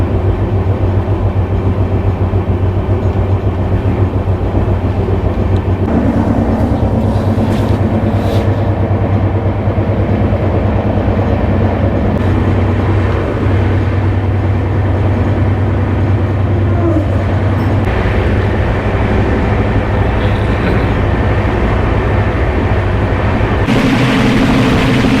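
A passenger train runs from New Delhi toward Mathura, heard from inside. A loud, continuous rumble and rattle holds steady throughout, with a low droning hum and shifting clatter.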